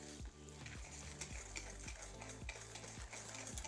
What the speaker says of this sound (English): I'm going to whisk this together until I have a nice, smooth, homogeneous mixture